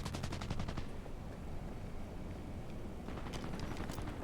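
Rapid automatic bursts from a Masamune power assault rifle in Cyberpunk 2077 rattle out loud and close, one long string of shots, a short pause, then another burst near the end.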